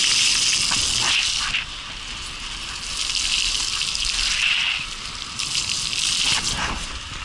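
A bicycle with a small mudguard rides along a wet winter road, its tyres hissing steadily through water with a loud spray that briefly drops away twice before surging back.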